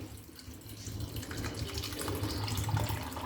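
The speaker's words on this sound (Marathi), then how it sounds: "ही चणा डाळ आता एकदम व्यवस्थित 2-3 वेळा आपल्याला धुवून घ्यायची आहे।" Chana dal being rinsed in a kitchen for puran poli: steady running tap water splashes over lentils in a vessel, a continuous close wash that grows slightly louder, with no speech.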